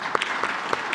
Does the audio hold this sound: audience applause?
yes